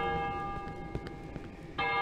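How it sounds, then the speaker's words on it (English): A bell rings overhead in the horror game Cry of Fear, its ringing tones sustained and hanging in the air, with a second bright strike near the end. "Oh, the bell's up there."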